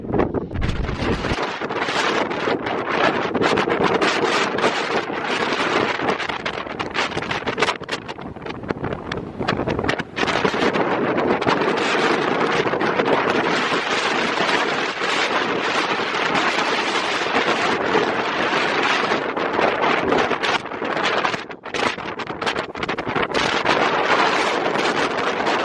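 Strong wind gusts roar across the microphone on a steep scree trail up to a mountain pass in Rocky Mountain National Park's Wild Basin, loud and continuous buffeting with a few sharp dropouts.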